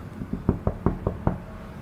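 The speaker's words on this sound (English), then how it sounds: "We knock on the door." Someone knocks on a front door: five evenly spaced, moderately loud raps in a quick steady rhythm, close by with no talk.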